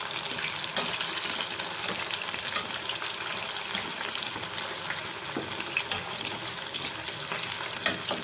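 Fish frying in a pan after being flipped, giving a steady, bright sizzle and crackle of hot oil that holds close and even throughout, with no talk.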